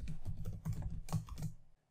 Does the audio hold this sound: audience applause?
no